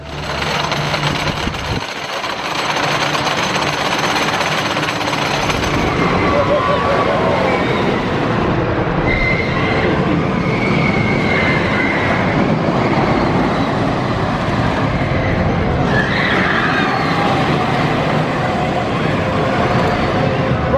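Wickerman wooden roller coaster at Alton Towers gives a loud, continuous rumbling roar of cars on track that lasts throughout, with rushing wind and some voices mixed in.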